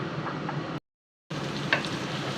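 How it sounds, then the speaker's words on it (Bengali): Chopped onion sizzling in hot oil in a home kitchen, a steady close frying hiss that cuts out briefly and then resumes with a few small pops. "তেলটা গরম হয়ে গেছে পেঁয়াজ কুচিটা দিয়ে দিচ্ছি"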